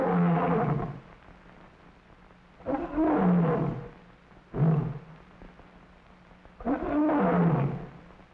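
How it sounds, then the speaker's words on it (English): An African lion roars at a zoo exhibit in four loud, deep bursts with short pauses, each a rough, heavy bellow that swells and fades, heard alone without talk. "They want to hear the lion's roar."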